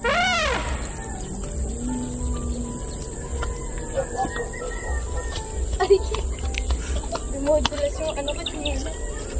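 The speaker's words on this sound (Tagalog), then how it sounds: "Marinig lang po ninyo mga huni ng ibon." Birds chirping across countryside fields, scattered faint calls over a steady insect and cricket hum, a rooster-like cry at the start, with quiet background noise and little else.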